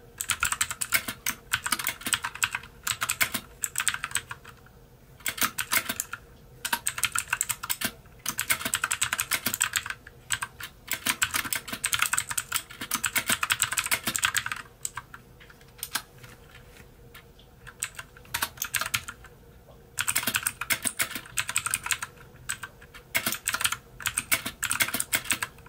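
Steady, rapid key clatter from a MAGEGEE MK-BOX mechanical gaming keyboard used on a Mac, close and continuous with brief pauses and no talking.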